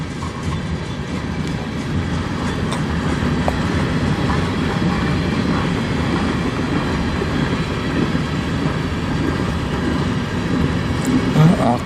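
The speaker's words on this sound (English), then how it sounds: "Now you can see the other train going to the other direction behind it." A CN freight train rolls steadily through Sarnia in a snowstorm, a loud continuous rumble and clatter of rail cars passing close by, with no talk.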